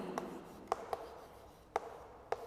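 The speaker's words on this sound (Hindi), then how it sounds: "हम यहां इसकी डेफिनेशन लिखेंगे।" A definition is written on a board during a chemistry lesson, heard as faint scratching with a handful of sharp, irregular taps and ticks over quiet room tone, and nobody speaks.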